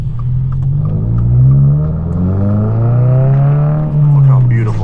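A 2023 Subaru WRX engine hums steadily from inside the cabin while driving through snow, its low drone rising and falling gently with throttle changes across the stretch.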